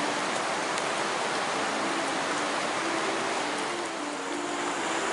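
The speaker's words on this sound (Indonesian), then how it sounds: "hujan sudah mulai turun" Rain beginning to fall beside a large river, a dense, steady hiss of drops with a faint underlying rush of water, continuous and even throughout with no voices.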